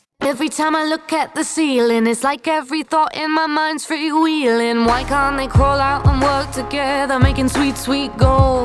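A sung lead vocal drenched in Bricasti M7 Amsterdam hall reverb, lingering tails trailing each line, starts alone before a backing track with bass enters halfway through.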